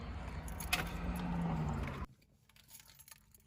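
Nissan car keys jangle close by for about two seconds, a bright metallic rattle over a low hum, then stop and leave quiet background.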